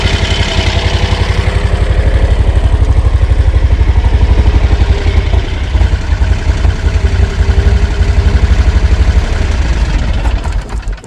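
A 30 hp Lanchin engine on an all-terrain vehicle runs loud and close for about ten seconds at a steady idle, with a low throbbing pulse and mechanical clatter and no talking.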